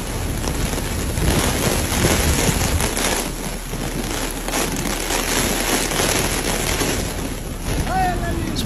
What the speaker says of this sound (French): c'est apaisant le bruit de la pluie